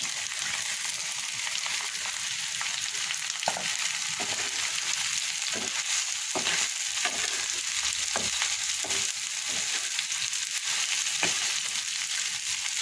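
Cut okra fries in a pan after ginger has been fried, giving a loud, steady hiss of sizzling oil. Occasional scrapes and taps of stirring break through it.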